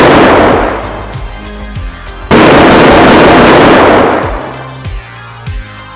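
Loud handgun firing effect in a dramatized story reading, heavy booming blasts with long rumbling decay, a big burst near the middle, then a couple of quieter pops near the end.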